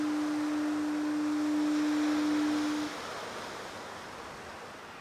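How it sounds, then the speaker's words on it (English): Surf washing onto a foggy beach on Brier Island, Nova Scotia, a steady broad roar with no distinct breaks, joined for the first three seconds by a constant horn-like tone that then stops, leaving only the surf. "waves crashing on the beach"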